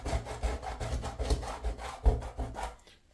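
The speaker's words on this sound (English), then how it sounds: "just rubbing your finger on the top of the sleepers" Fingertip rubbing loose ballast grains off the tops of model railway sleepers, a steady scratchy gritty rasp with repeated strokes, close and fairly quiet, alone.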